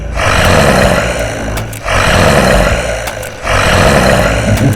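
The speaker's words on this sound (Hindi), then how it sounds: "अपनी भारी आवाज से दहाड़ना शुरू किया, जो उसने शेर से सीखी थी" A hyena in an animated story gives a deep, heavy lion-like roar, three long loud bursts separated by brief pauses, alone without speech.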